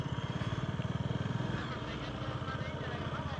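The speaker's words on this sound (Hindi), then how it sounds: "अभी घुमाओ गाड़ी, सेकेंड गियर में डालो" A motorcycle idles close by in a parking lot during riding practice, its engine chugging in a quick regular pulse that smooths into a steadier hum as it pulls away, while a voice talks.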